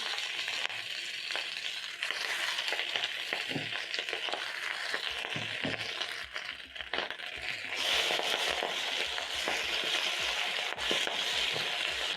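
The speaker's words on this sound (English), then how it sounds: "As the tomatoes are cooking, the nderema also is going to be wilting down and cooking." Tomatoes and nderema (African nightshade greens) cooking over browned onions in a pan, giving a steady close sizzle and crackle with scattered small clicks of the food shifting, continuous and moderately loud with no talking.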